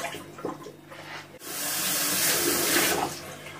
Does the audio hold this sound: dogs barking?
no